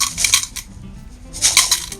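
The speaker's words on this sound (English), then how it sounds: "Just do a little thin layer of aquarium gravel." Aquarium gravel poured into a pot, heard as two close bursts of small stones clattering and rattling against each other with a quiet gap between them.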